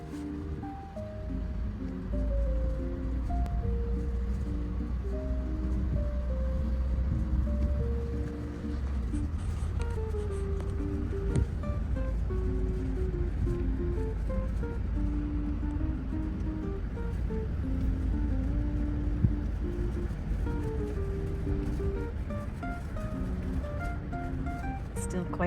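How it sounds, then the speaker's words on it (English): Gusty wind at an RV park facing a mesa, heard as a steady low rumble that buffets the microphone throughout, with faint tonal sounds running beneath. "Still quite windy."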